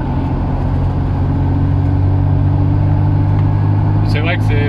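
A Matra Murena sports car driving along with three people aboard, its steady engine and road rumble loud and continuous throughout, with a couple of brief high squeaks near the end.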